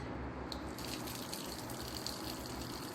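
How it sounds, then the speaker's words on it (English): A faucet runs steadily for hand washing, giving a continuous gushing hiss of water into a sink, close and fairly quiet, with no talking. "So we need to regulate the water first."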